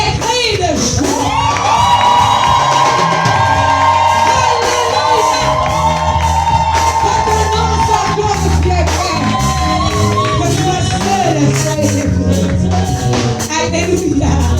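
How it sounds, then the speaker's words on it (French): A church congregation at a seminar erupts in loud sustained cries of joy and cheering, many voices shouting and whooping together, with a sung or held tone over the crowd. "Est-ce qu'on peut pousser les cris de joie?"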